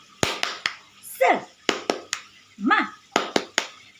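A class in Indonesia doing the rhythmic 'tepuk semangat' clap, crisp claps in small spaced groups of two or three, with short chanted voices between them.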